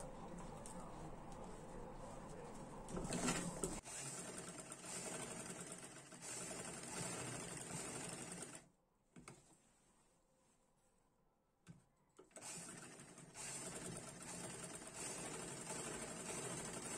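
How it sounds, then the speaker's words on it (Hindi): A sewing machine stitches the shoulder seam of an A-line gown. It gives a steady, continuous whirring hum that stops briefly in the middle, then resumes at the same level. "इसको इस तरीके से रख के इसके ऊपर सिलाई लगाएंगे।"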